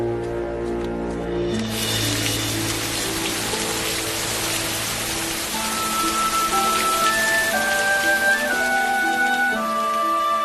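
Steady rain falling as a dense, continuous hiss throughout, loud and close, with music playing underneath.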